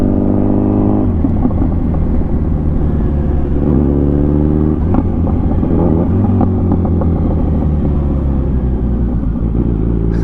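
A car engine runs at about 4000 rpm and is driven without using the clutch, making a loud, steady, close droning rumble with rising pitch sweeps as the revs change, unbroken for the whole stretch.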